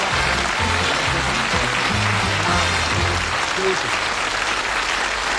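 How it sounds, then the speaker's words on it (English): Studio audience at a darts game show giving a warm, sustained round of applause, loud and continuous, with faint talk buried beneath the clapping. "a nice warm round of applause for Jocky Wilson"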